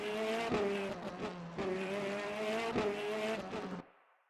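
A Mercedes race car loses control on a circuit during Le Mans 24 Hours warm-up running, engines roaring steadily with sharp rhythmic bursts and tire noise for about four seconds before cutting off abruptly.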